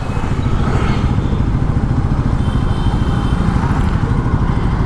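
A metallic black Yamaha MT-15 V2 motorcycle runs with a loud, continuous, throbbing engine rumble, close up and steady throughout, with no talking.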